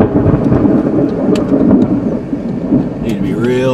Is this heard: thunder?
yes